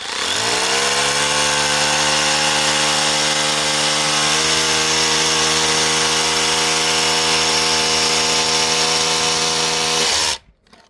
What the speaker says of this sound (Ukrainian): Та ти що як класно свердлить?